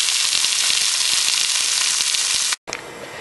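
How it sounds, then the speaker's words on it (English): Zucchini and eggplant browning in a pan give a loud, steady sizzle with fine crackle throughout, briefly cut to near silence just before the end and then resuming more quietly. "we will brown the zucchini and the eggplant. Golden, not burned"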